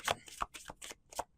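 Quick papery riffles of tarot cards being shuffled in a few short bursts with brief pauses between, close and fairly soft.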